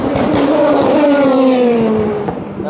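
A WRT race car sweeps past at the 24 Hours of Le Mans, its loud engine note sliding downward in pitch as it goes by close up and then fades away.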